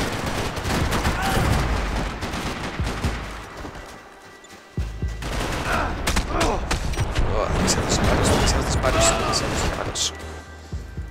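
Dense gunfire rattles through a Max Payne 3 multiplayer match, with bursts of automatic fire, single shots and booms overlapping loudly and continuously, briefly dipping before resuming, with a voice talking over it.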